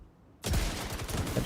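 Rapid gunfire from a Model 700 rifle in The Division 2 bursts in after a short silence, a dense, loud run of overlapping shots and impacts that keeps going to the end.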